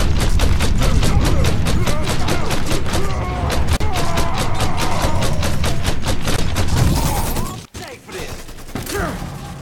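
Rapid gunfire from Mafia 3 rattles in a long, fast stream of loud, evenly spaced shots, then breaks off near the end before a few scattered blasts return.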